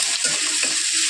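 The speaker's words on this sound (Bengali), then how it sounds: "এই দুটো তেজপাতা দেবো, দিয়ে দেবো পেঁয়াজ।" Bay leaves and chopped onions are stirred into hot frying oil, giving a steady, bright sizzle with soft scraping movements heard close by and no voices.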